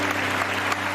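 A studio audience at a Pakistani television game show claps in a dense, steady burst that runs the whole second without any break.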